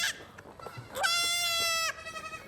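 A nursing goat gives a single loud, nasal, wavering bleat lasting about a second, with quieter background sounds before and after it.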